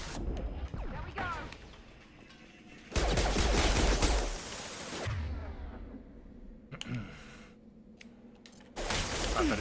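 Bursts of incendiary-ammo gunfire in Mass Effect 2 rattle in dense volleys, with a long loud stretch in the middle and shorter bursts later, mixed with in-game voices.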